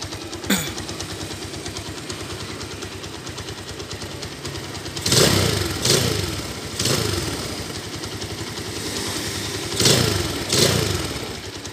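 A 2012 Honda Tiger Revo motorcycle engine idles close by with a rough, ticking mechanical note. Several sharp throttle blips swell and fall away over the steady idle, and no one speaks.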